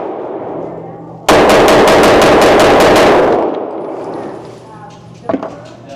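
A CZ Shadow 2 pistol fires a quick string of sharp, loud shots at close range, each crack ringing briefly, before a quieter stretch with one lighter knock near the end. Faint talk sits underneath.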